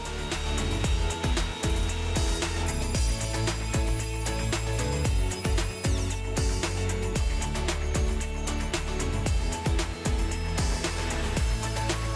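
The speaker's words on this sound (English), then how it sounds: "He's using a router to round up the edges." A loud, steady router whine runs throughout, with rough grinding textures as it rounds the edges of a wooden dining table, continuous and close with no talking.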